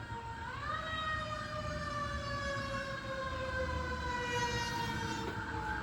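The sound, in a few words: emergency vehicle sirens passing by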